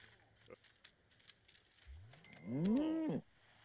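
A cartoonish cow moos once in The Sims 4 on a farm, a rising-and-falling bellow of about a second, loud and clear over faint background game ambience.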